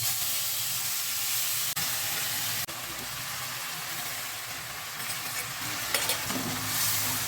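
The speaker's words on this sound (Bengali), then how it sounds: "এই পুরো মশলাটা আমি এবার এই তেলের মধ্যে দিয়ে দেবো।" Turmeric, chilli powder, salt and cumin-coriander spice paste frying in hot oil for Bengali rohu fish curry, a steady close sizzle and hiss with a few sharp clicks, no talking.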